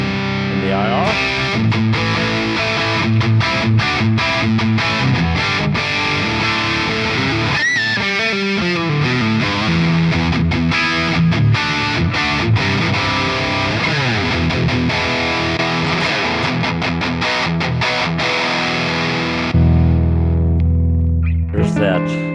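An electric guitar played through an EVH cabinet impulse response, dense distorted riffing with chugging chords and fast picked lines, loud and continuous for over twenty seconds, ending on a sustained low chord.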